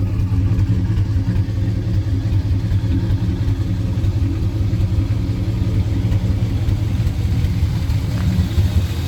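Steady, close idle of a 1962 Pontiac Grand Prix 389 V8 fitted with an Edelbrock carburetor, a deep, even rumble that holds constant and loud throughout with no talking.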